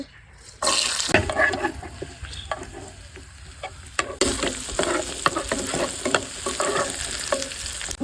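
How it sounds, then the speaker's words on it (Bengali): Chopped onion, chili and garlic frying in hot oil for a coriander-leaf bharta, a steady loud sizzle that jumps up sharply as the ingredients hit the pan, with spoon-stirring scrapes and clinks throughout. "তেল দিয়ে দিচ্ছি পেঁয়াজ মরিচ রসুন কুচি দিয়ে দিচ্ছি"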